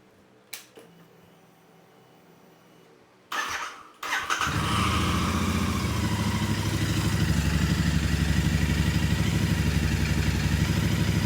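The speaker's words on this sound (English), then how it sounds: "So we'll just fire her up and let's see what she sounds like." A few faint clicks, then a Royal Enfield Interceptor 650 motorcycle engine, fresh from an oil and filter change, cranks and catches, settling into a loud, steady idle that runs on alone.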